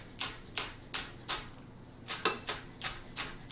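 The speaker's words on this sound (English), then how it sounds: "I'm just slicing it on the side here." A knife slices green onion on a cutting board during spaghetti and meatball prep, giving about ten crisp, evenly spaced chops close by, alone and without talk.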